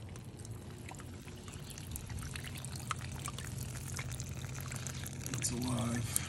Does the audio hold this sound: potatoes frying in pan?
no